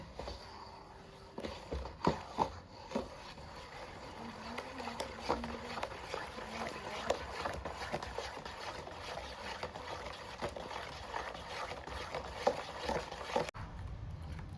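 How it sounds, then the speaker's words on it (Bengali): A spoon stirs strained bael fruit pulp together with jaggery, giving irregular soft scrapes and light clinks against the vessel over a low, steady background, with no talking. "বেলটা ভালো করে মিশিয়ে নিচ্ছি গুড়ের সঙ্গে"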